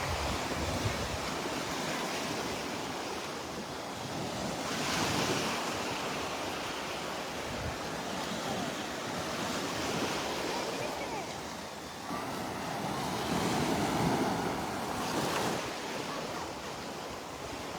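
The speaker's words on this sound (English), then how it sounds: "we're making our way north up the beach at Delnor-Wiggins Pass State Park up in North Naples, Florida" Waves wash ashore on the beach at Delnor-Wiggins Pass State Park in North Naples, Florida, a broad continuous surf roar that swells and recedes slowly, with wind buffeting the microphone.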